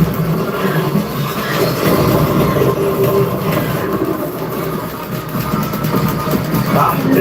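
A train on the Star Wars Galaxy's Edge ride rumbles steadily and loudly with a rolling clatter and occasional metallic squeals, sustained throughout.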